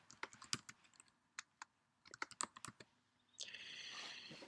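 Bursts of computer keyboard typing, close and distinct keystrokes in uneven runs with short pauses, followed by a steadier brighter sound near the end.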